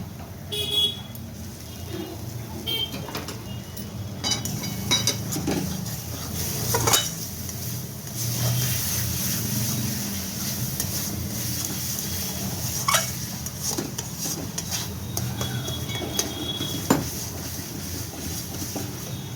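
Food fries in a pan over a low gas flame while a spoon stirs and scrapes against the metal, with intermittent clinks over a steady background hiss, close by and without talking.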